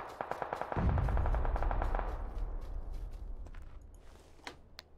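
Machine gun fire in PUBG: a rapid burst of shots in the first two seconds, then a heavy boom that fades out slowly, with a few faint scattered shots after it.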